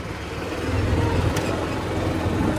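A golf cart drives across a golf course with a steady, moderately loud rolling hum and broadband road noise throughout, without any distinct engine revving.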